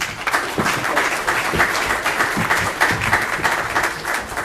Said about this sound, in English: give a round of applause for Alejandra Castillo